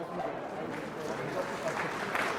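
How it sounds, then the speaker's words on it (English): Crowd applause at a women's rugby final between Japan and Hong Kong, a steady broadband wash of clapping and cheering from the stands that holds evenly throughout. "And applause, big applause for number 3, Saki Minami"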